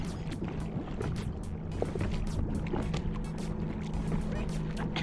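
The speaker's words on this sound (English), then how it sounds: "I'm gonna paddle away from him." Paddle strokes from a small rowboat or canoe dip and splash in steady rhythm on water in Maine, with constant nearby water lapping against the hull throughout.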